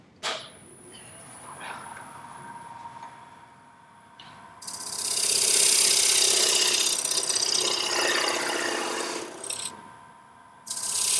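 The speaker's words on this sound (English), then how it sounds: "So I'm gonna part the lid off of this." A parting tool cuts a wooden box lid free on a slowed-down lathe, giving a loud, sustained, harsh scraping hiss of several seconds over the lathe's quiet hum, then a brief second bite at the end.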